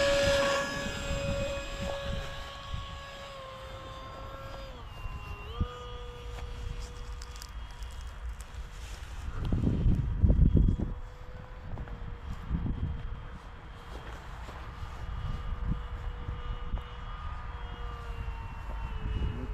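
A Phoenix model airplane with a 1.4 m wingspan on its first flight gives a faint, whining electric motor drone whose pitch shifts as it passes overhead, with louder bursts of wind and rustle at times.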